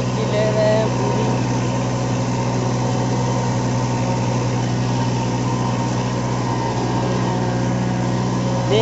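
A Kubota MU4501 45 hp tractor pulling a reversible plow through soil, its engine running steadily near 1800-1900 rpm with a constant loud droning hum that holds even throughout, close by and alone.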